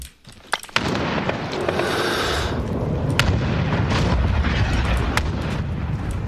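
Cruise missile strike in Call of Duty Modern Warfare hardcore play: a few sharp cracks give way to a long, dense, rumbling barrage of blasts and debris that stays loud and continuous, with scattered sharper impacts throughout.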